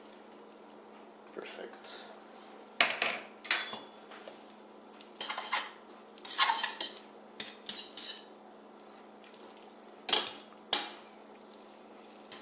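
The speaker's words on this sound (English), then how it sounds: "now I'm going to add my pasta." Pasta going into a pan of sauce, with clinks and clatters of cookware and utensils in scattered bursts, near and moderately loud, while a person speaks briefly.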